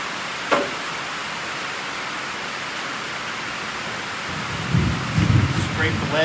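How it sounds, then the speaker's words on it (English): Thunderstorm rain pounding a tin workshop roof as a constant loud hiss, with a sharp crack early on and a low rumble of thunder building near the end. "it's loud when it's raining."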